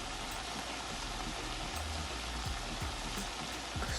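Boiled cassava pieces frying in hot oil give a steady, close, dense sizzle and crackle that runs on without a break, with a faint low hum underneath and no talking.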